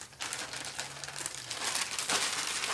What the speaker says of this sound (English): it's a simple enough plastic bag, taped closed, very straightforward to nick and get access to it